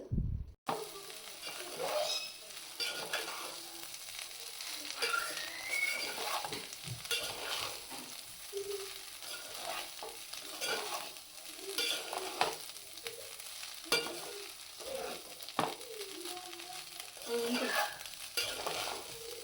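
Cooked rice, mixed with vegetables and meat for fried rice, is stirred and tossed in a hot pan, giving repeated scraping strokes over a soft, steady sizzle, close up with no talk.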